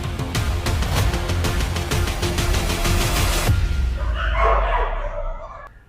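At a crowded dog shelter holding about a thousand dogs, many dogs bark in a dense, rapid, overlapping chorus over loud background noise. The barking cuts off abruptly, leaving scattered fainter yips and murmuring.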